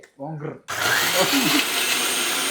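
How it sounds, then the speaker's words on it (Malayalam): A kitchen mixer grinder switches on abruptly after a brief spoken phrase, grinding masala with a loud, steady, high-pitched whirring roar that holds continuously to the end. "ഞാൻ മിക്സി ഓൺ ആക്കുക"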